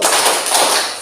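A group claps together along to the Tepuk Santia chant, a dense run of overlapping hand claps filling the whole moment at close, loud level with no talk.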